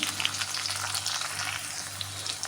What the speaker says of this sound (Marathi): कांदा भाजत आल्यानंतर मी मिरची ॲड करत आहे